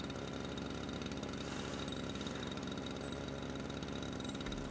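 Landscaping vehicle engine in Paysagiste Simulator, a continuous mid-pitched mower-like idle running steadily and fairly quietly without pause.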